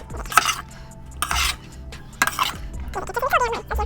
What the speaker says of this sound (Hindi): ये डाल के इसके ऊपर हम थोड़ा सा सोया सॉस डालेंगे ये, और इसको अच्छे से हम मिक्स कर लेंगे।